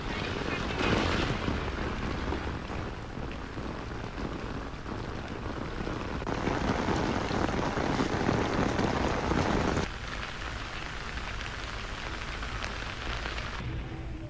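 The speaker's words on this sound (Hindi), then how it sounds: "श्रीनगर और वादी कश्मीर के कुछ दूसरे हिस्सों में सुबह से बारिश हो रही है।" Steady rain falling in Srinagar, Kashmir, a dense continuous wash of drops on surfaces that shifts in intensity partway through, with no talk over it.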